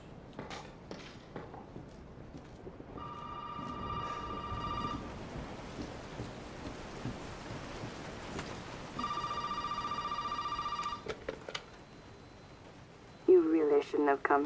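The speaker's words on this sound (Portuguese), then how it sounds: "Cadê o telefone?" A telephone rings in the Resident Evil 7 video game, two clear electronic ring bursts a few seconds apart over a dim rumbling backdrop of rain and thunder, with a voice coming in at the end.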